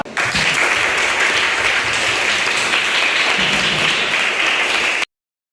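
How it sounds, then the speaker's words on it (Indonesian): A classroom of students claps for a classmate named Farhan, a loud, dense burst of applause that starts abruptly, holds steady for about five seconds, then cuts off sharply. "Tepuk tangan buat Farhan."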